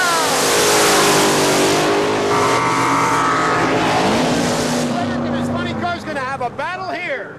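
Tommy Howes' supercharged race car at a drag racing event revs loudly and continuously up close, a dense, roaring engine note that rises and falls, with an announcer's voice running over it toward the end.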